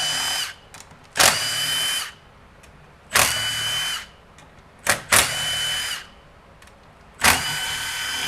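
A power drill or impact tool runs in four separate bursts, spinning out the remaining transmission valve body bolts on a 6L80E 2WD transmission from a 2017 Chevy Silverado 1500, close and loud, with quiet pauses in between.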